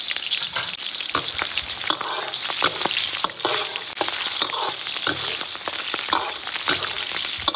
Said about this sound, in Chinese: 葱姜爆香